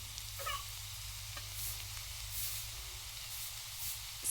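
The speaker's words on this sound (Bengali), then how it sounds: "কী করে আলু ভাজতে শিখে নেন। এই যে এরকম করে নাড়তে হয়" Sliced potatoes fry in a pan with spices and chili, giving a steady sizzling hiss, while occasional scrapes and knocks from stirring come through close by.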